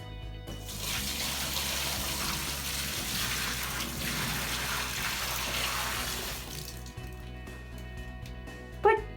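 Dirty mop water sloshes and splashes in a bucket during a post-holiday cleanup, a continuous close watery churning that fades out near the end, followed by a brief clatter.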